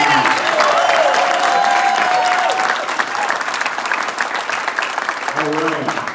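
An indoor audience claps loudly and steadily at a Special Olympics unified team signing day, the applause fading slightly toward the end with scattered cheers.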